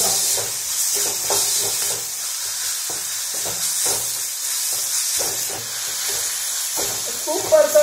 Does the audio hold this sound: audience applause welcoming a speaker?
no